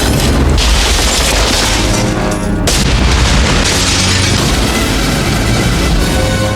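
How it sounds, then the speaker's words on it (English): Loud, sustained explosion from a gum bomb thrown into a fish tank, a continuous booming roar with crashing debris that fills the whole stretch without pause. "The massive explosion caused chaos"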